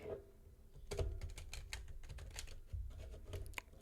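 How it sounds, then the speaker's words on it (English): Soft, close rustling and tapping as tarot cards are shuffled, irregular clicks and riffles with a few louder snaps, no talking. "Shuffle the deck."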